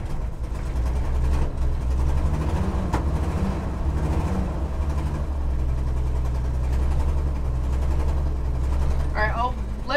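A 1964 Chevy C10 engine idles steadily after a cold start, a low, even rumble that holds throughout with a slight exhaust-leak tick, close by and running alone.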